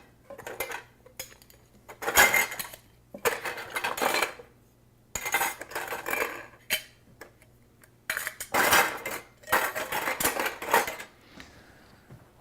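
Plastic lids being fetched for kefir containers clatter in several bursts of dish-like clinks and rattles, separated by short quiet gaps, fairly close and with no talk.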